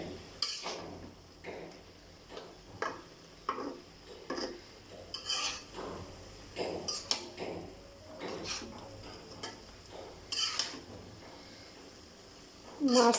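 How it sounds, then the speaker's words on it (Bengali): Fish and leafy greens are turned together in a pan, making repeated scraping and clinking utensil strokes in an irregular rhythm, close by and moderately loud. "আমি শাকের সাথে মাছ খুব সুন্দরভাবে মিক্সড করে নেব।"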